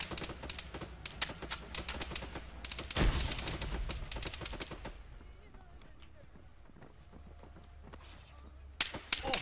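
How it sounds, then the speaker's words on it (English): Gunfire in a multiplayer shooter game, dense bursts of rapid shots for the first few seconds, then sparser distant cracks with one more burst near the end, under players' talk. "Taking fire from the left."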